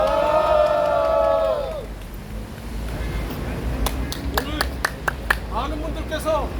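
A rally crowd against the Fukushima wastewater release gives a round of applause, claps building to a dense burst with scattered cheers after a voice on a loudspeaker finishes speaking.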